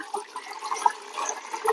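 Water splashes and trickles briefly as it is poured into a container for koi carp, faint and close, with uneven gurgling spurts.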